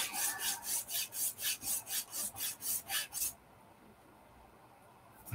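Rhythmic back-and-forth rasping of sandpaper on a hard 1/48 scale resin model part, about a dozen quick strokes up close, then it stops and only a faint hiss remains.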